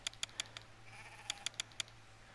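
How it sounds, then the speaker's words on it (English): Sheep bleat softly in the farming game Pure Farming 2018, heard under a run of sharp clicks that sound like interface or typing taps, against a low steady hum. "So here's the sheep and pure farming."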